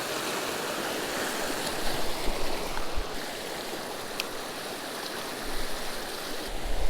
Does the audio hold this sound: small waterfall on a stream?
yes